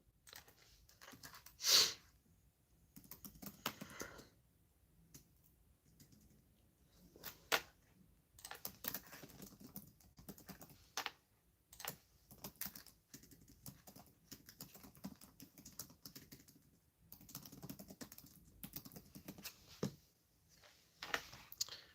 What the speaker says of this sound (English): Okay, I am typing the question.